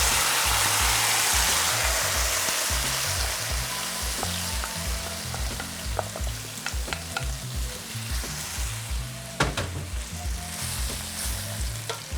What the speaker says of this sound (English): I want that tomato paste to begin to take on some color. I want it to begin to darken. All right, so I'm gonna add my crushed tomatoes.